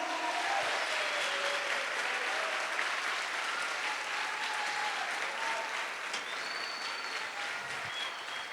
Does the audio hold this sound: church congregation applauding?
yes